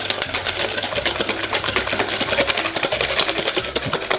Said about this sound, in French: lorsqu'on met les jaunes directement sur le sucre, il faut de suite fouetter